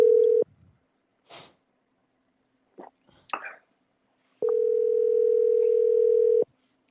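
A phone call goes out over a line: a steady ringback tone sounds, breaks into a few faint rustles and soft murmurs, then the tone resumes for about two seconds.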